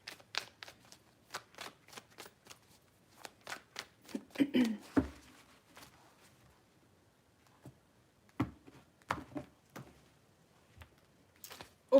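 Tarot cards riffle and slap in a run of quick, crisp shuffles, close and fairly quiet, with short pauses between bursts and no talking.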